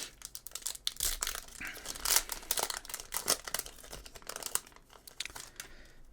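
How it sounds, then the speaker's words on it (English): A Yu-Gi-Oh! booster pack wrapper being torn open, with continuous close crinkling and crumpling of foil packaging and a few sharper tearing rips, fairly quiet and without speech. "So I'll just open the booster and program in the cards."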